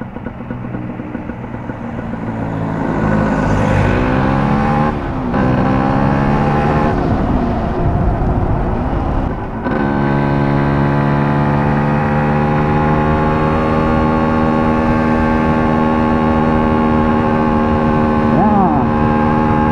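A Yamaha DT125 two-stroke motorcycle with electric starter on the road, its buzzing engine loud and close, revs climbing and dropping through gear changes before settling into a steady drone, with wind rush throughout.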